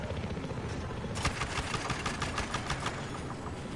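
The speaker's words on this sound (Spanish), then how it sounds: "Explicarme cómo se maneja un helicóptero" A helicopter in the GTA V video game on PS4 whirs with a steady rotor and engine drone, with rapid rhythmic chopping pulses rising after the first second.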